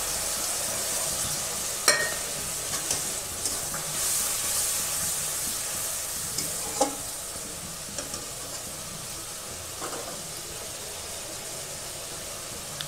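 Onions and ground spices fry in a pan for an egg curry, giving a steady soft sizzle and hiss with a few faint scrapes and clinks, moderately quiet and with no talk.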